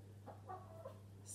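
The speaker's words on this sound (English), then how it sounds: "there's the hen behind me, I don't know if you can hear that." A hen behind a home kitchen clucks faintly in the distance, a few soft separate calls over a low steady hum.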